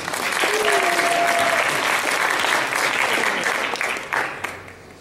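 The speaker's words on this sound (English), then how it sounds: "let's give her a round of applause" An audience at an event gives a guest of honor a round of applause, a dense, steady crowd clapping that holds for several seconds, then thins and fades out near the end, with a faint voice briefly heard.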